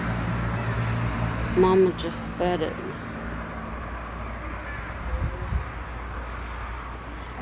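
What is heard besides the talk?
crows cawing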